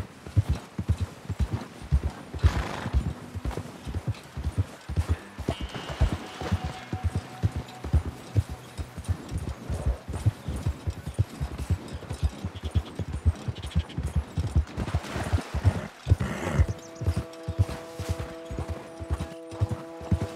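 Horse hooves gallop steadily in Red Dead Redemption 2, a fast and continuous clip-clop rhythm that stays close and loud for the whole stretch. A faint whinny and some game sounds can be heard underneath.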